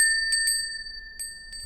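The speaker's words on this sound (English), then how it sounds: "ring that notification bell" A bright notification bell chimes in quick rings, two strikes close together and then another pair, clear and isolated over faint background hiss.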